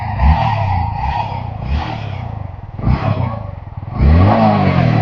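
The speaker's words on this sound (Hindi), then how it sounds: "बाइक कुछ इस तरह की साउंड करती है।" Yamaha MT-15 motorcycle engine idling and revving in short bursts, with repeated throttle blips rising and falling close to the microphone, loud and steady between revs, no talking.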